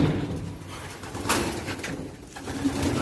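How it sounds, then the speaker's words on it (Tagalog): Pigeons coo softly inside a loft, with low, throaty calls repeating over a few seconds at close range. "Ayan mga kalapatids."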